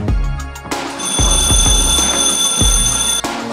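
A loud electronic alarm rings continuously, a shrill beeping tone over low thumping knocks, ending abruptly near the close.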